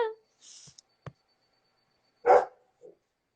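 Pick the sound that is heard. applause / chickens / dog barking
dog barking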